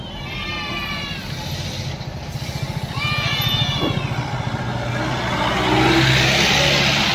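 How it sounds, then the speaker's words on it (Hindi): A convoy of cars carrying the Badrinath temple's chief priest arrives outdoors, with a steady engine rumble and revving close by, swelling louder toward the end, while people talk in the background. "ये है बद्रीनाथ भगवान के मुख्य पुजारी जी का काफिला, वो आप आ चुके हैं अभी यहाँ पे"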